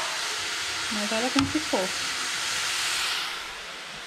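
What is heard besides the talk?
chicken cooking on the fire, water steaming off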